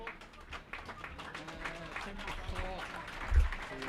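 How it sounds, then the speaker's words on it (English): Home fans at a Workington AFC non-league football match give a modest round of applause that carries through the crowd, heard beneath a commentator's talk. "So applause here from the home fans."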